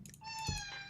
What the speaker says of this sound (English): I swear to God, this cat just wants to play.